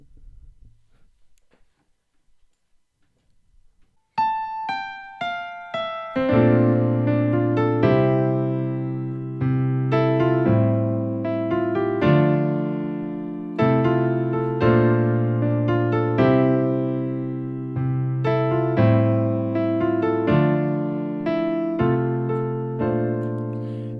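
Solo piano plays the intro to a song, starting with a few soft single notes, then settling into a steady, close rhythm of chords and bass notes that decay between strikes.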